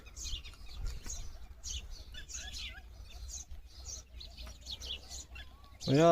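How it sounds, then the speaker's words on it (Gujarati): Sparrows and other small birds chirp and tweet repeatedly in the background, light and scattered, with a louder bird call bursting in at the very end. "અહીંયા પણ પક્ષીઓ છે જો જો જો ચકલી જો"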